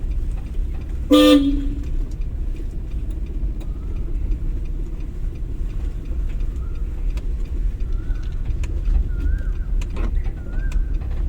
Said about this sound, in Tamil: ஹாரன் அடிச்சிருக்கோம்.